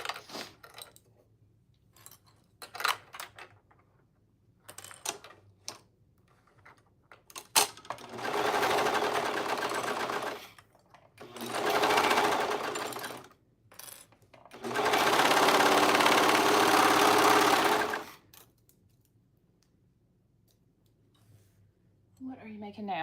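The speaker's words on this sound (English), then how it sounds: "I am sewing together the swim lining for a May swim top for Chloe" Sewing machine stitching the white swim lining of a swim top, running in three sustained bursts of steady whirring with short pauses between, loud and close, with scattered clicks and handling noises before and after.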